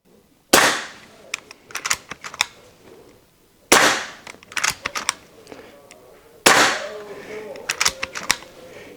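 Three sharp air-gun shots from an Air Venturi MicroStrike PCP pistol firing 6.35 mm pellets at about 40 joules, spaced a few seconds apart, each crack followed by clicks and handling noises close by.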